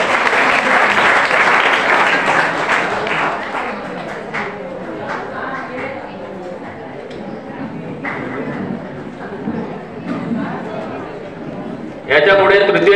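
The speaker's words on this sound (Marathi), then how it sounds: "या विद्यार्थ्यांसाठी जोरदार टाळ्या वाजवायच्या आहेत" Students clap loudly at a school annual prize-distribution ceremony, a dense burst of applause that fades into scattered claps and murmuring. A fresh round breaks out near the end, with talk over parts of it.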